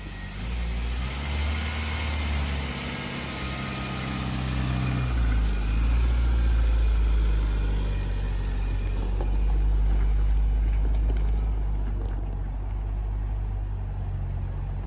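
A 1800 Ford Sierra classic car with 2,823 miles idles and revs after starting, a loud, low engine rumble close by that swells mid-way, then settles to a steady run.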